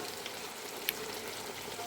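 Potato and pointed gourd fry in a pan with onion, garlic, ginger and tomato paste, giving a steady soft sizzle with one brief clink of a utensil.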